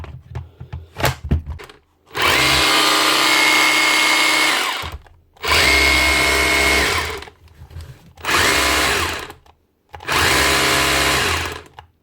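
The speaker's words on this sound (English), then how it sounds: "Bosch 36 volt drill, SDS drill." A Bosch 36-volt cordless SDS drill whirs loudly in four long bursts of a couple of seconds each, spinning up and cutting off, after a few brief clicks; the drill has a fault where it keeps shutting down while running.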